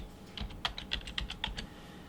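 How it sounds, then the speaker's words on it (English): Quick bursts of typing on a computer keyboard, a run of about a dozen crisp, close keystrokes in an uneven rhythm over a low room hum. "We type in updates,"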